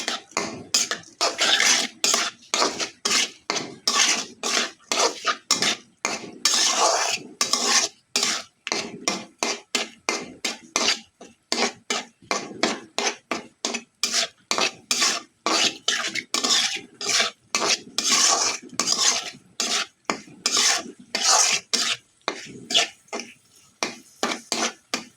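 Lau shak greens with stalks are stirred in a pan with turmeric and cumin powder. A utensil scrapes the pan again and again in a fast, steady rhythm of rasping strokes, loud and close, with no voices.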